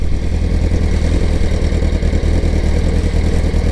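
Yamaha R1 motorcycle engine running close by with a steady, pulsing idle and a clattery mechanical edge, loud throughout with no talk.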